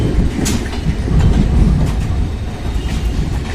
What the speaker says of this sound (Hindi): तो ये है दोस्तों काठगोदाम शताब्दी, जो कि प्लेटफॉर्म 1 पर जा रही है।